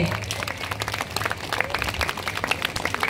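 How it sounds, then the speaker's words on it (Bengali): Audience applause for a children's staging of Rabindranath Tagore's dance drama Chandalika: scattered, uneven clapping that carries steadily through the whole stretch at moderate loudness, with a low background murmur underneath. "একটু জোরে তালি হোক বাচ্চাদের জন্য।"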